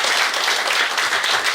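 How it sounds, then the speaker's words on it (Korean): Audience applause at an evening book concert held at a Buddhist temple in Gimhae, a loud, steady, dense clapping from a crowd filling the whole moment without voices. "일단 큰 박수 부탁드립니다."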